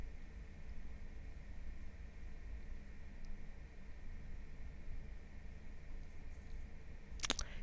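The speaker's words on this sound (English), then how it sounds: "Sorry for the noise in the background, just my aircon." Quiet, continuous broadband hum and hiss of an air conditioner running steadily, with a faint click near the end.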